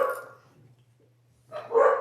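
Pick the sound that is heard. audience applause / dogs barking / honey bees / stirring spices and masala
dogs barking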